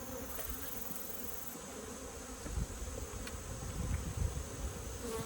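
Bees buzzing around an open hive during an inspection, a dense, steady, close droning swarm with individual insects passing nearby, with no talk over it.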